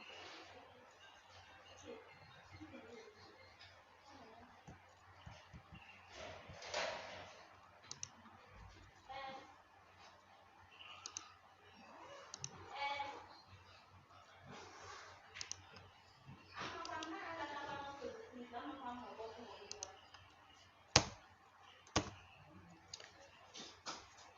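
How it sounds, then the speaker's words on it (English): A computer mouse clicking while a logo is designed in Photoshop: scattered, quiet single and double clicks spread irregularly over a long stretch, with soft talk in the background. "you click, you click, you click, you click."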